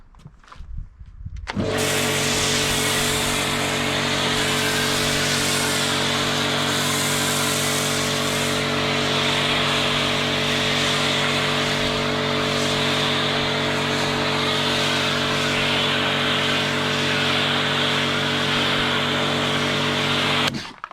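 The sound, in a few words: pressure washer rinsing snow foam off a car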